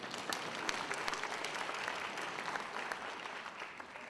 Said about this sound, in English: I think that we owe ourselves a round of applause